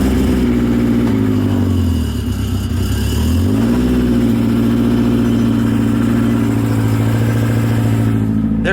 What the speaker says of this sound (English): There's a slight like metal rattle coming from underneath the car